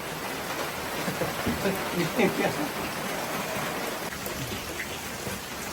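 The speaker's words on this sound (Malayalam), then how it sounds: "വെളി നല്ല മഴയാണ്" Heavy rain pours down in a steady, dense hiss, with faint voices briefly under the noise.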